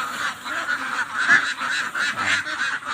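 Ducks honk and squawk in a busy, overlapping flock at feeding time on a Filipino farm, the calls continuous and fairly close with a few louder cries standing out.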